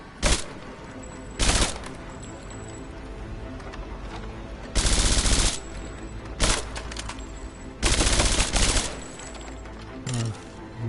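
Gunfire from shooting in Rise of the Tomb Raider: several loud bursts of rapid automatic fire come in separate volleys with short gaps between them, over quieter game ambience.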